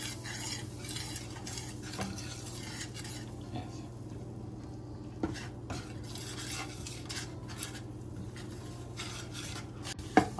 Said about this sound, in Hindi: ये मैदा जो है ये मैंने थोड़ी देर के लिए ये बटर में इसको हल्का सा फ्राई कर लिया